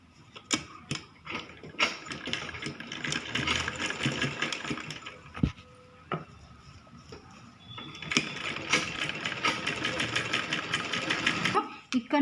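A sewing machine stitches a child's lehenga in bursts of fast mechanical chatter, with brief pauses between runs, close and fairly loud.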